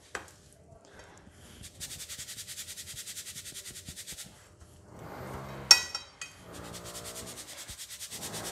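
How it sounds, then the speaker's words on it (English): Renovation noise from a neighbor's place, with a steady rhythmic scraping or sanding drone and a few clinks, faint and in the background of a kitchen where corn on the cob is being prepared. "it's a background noise there because my neighbor is doing some renovation"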